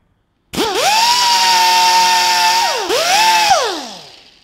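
A drill spins a medium grit roll lock Scotch-Brite pad against metal, whining loudly and steadily with a high pitch, dipping once as the load changes, then winding back up and spinning down.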